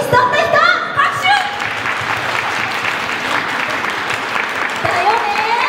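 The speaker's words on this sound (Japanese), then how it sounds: "拍手" A crowd claps at an outdoor stage during the Hakata Dontaku festival in Fukuoka, steady mid-loud applause filling the stretch while voices and whoops rise over it at the start and end.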